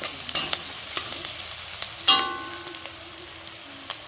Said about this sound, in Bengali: মশলাটা ভাজা ভাজা হয়ে গেছে আমার প্রায়।